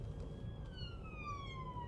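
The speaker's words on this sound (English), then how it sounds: "I've got a police car coming up behind me with full blues on" A police car siren wails from behind on a road with roundabouts, its sweeping tone sliding steadily downward. It sits moderately faint over the loud, low rumble of the driver's own car.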